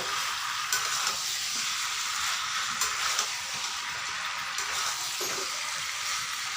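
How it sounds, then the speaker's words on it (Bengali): Chicken feet curry hisses in a steady, close sizzle as it is stirred in a pan, with a few soft scrapes of the utensil breaking through the constant frying noise. "ভালো করে নাড়াতে হবে, না হলে কিন্তু নিচে লেগে ধরবে।"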